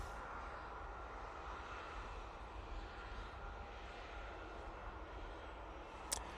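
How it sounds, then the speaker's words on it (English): Emirates airliner EK21 on final approach at Manchester Airport, a faint, distant, steady engine drone holding evenly throughout, with a brief click near the end. "Emirates has just turned on to final, EK21."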